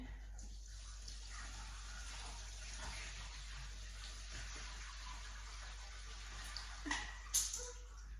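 Water pours and gushes steadily as cooked cauliflower is drained in a kitchen, a constant close wash of sound with a few louder splashes near the end and no talk.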